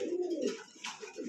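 A pair of black Lahori pigeons, a breeding pair, coo close by in soft, low, throaty phrases that swell and fade, with a brief pause before the cooing resumes.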